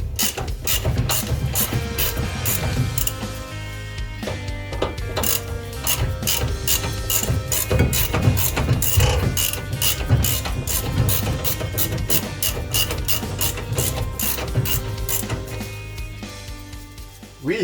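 A socket ratchet turns a nut on a car driveshaft during a joint replacement on a Renault 4L, giving a dense run of rapid, loud clicks that carries on steadily for the whole stretch, with no talking.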